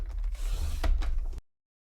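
A paper trimmer blade slides across a thin strip of scrapbook paper in one short, close scraping pass lasting just over a second, ending abruptly in silence.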